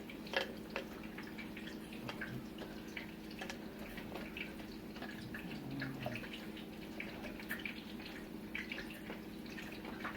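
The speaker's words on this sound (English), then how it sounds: "Cut it in half, and then squeeze the juice into a container." Fresh lemon halves squeezed by hand into a container, juice falling in a faint trickle of soft drips against a quiet room hum, with no talking.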